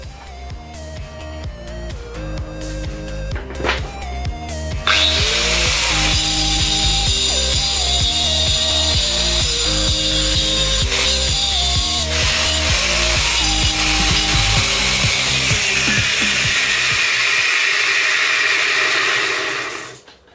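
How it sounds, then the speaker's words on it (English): Power tool with a diamond blade cuts and flattens a steel bolt, starting with uneven grinding that builds into a loud, steady, harsh whine, then shuts off abruptly near the end. "I've cut the head off it, and I've flattened the edge off on both sides like that."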